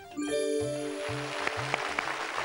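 A bell on a Telugu television game show rings out with a bright, sustained tone, followed by several quick repeated strikes that ring on loudly and close.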